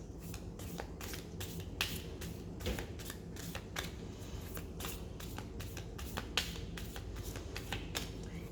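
Tarot cards being shuffled in a steady run of crisp, papery riffles and flicks, close and fairly quiet, with no talking.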